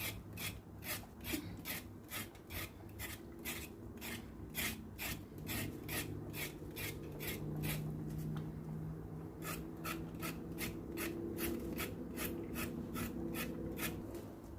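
A knife scrapes the skin off cassava in steady, rapid, rasping strokes that repeat evenly throughout. There is a brief pause midway, and no one speaks.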